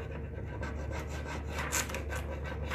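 Steady rubbing and light rasping as a rub-on transfer is burnished onto a dresser, a continuous close scratchy friction that swells and fades in short strokes, with no talk.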